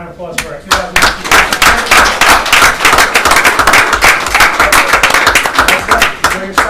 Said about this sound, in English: one more round of applause for our 2019.